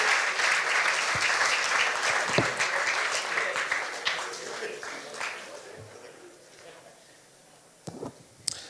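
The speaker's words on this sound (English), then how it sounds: "Give Rich a big round of applause." Wedding guests applaud at a reception at Mulino's in Eastchester, New York: a full burst of clapping that gradually thins and fades over several seconds, leaving scattered low thumps and room noise before a couple of final claps.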